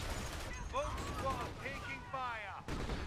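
Mortar rounds and other gunfire go off in a Company of Heroes match, a steady barrage of booms and thuds over continuous battle noise.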